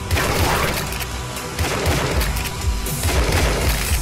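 Rapid, heavy gunfire from the video game Tesla vs Lovecraft, loud bursts of shots and booming impacts coming in waves with short lulls between them.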